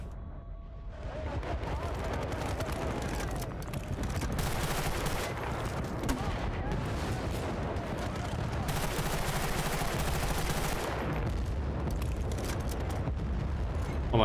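Gunfire from a favourite gun in Battlefield: Bad Company 2 keeps up a dense, loud, continuous stream of shots for the whole stretch, with a voice talking faintly underneath.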